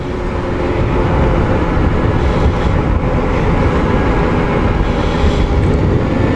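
Continuous engine drone of a Longjia motor scooter with heavy wind buffeting the microphone, steady and loud throughout while riding.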